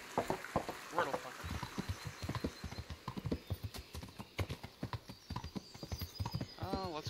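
Horse hooves clip-clop in a steady trotting rhythm in the video game Kingdom Come: Deliverance, close and clear, with brief snorts and a whinny near the end.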